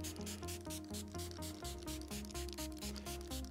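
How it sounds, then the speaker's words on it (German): Repeated rubbing strokes as impregnation protector is worked into an Alcantara sofa, a steady rhythmic scrubbing at close range with no talking. "Da kann ich einmal die Imprägnierung auftragen"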